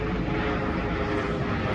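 A helicopter flies overhead, its steady broadband engine and rotor roar filling the short stretch at a constant, fairly loud level with no voices.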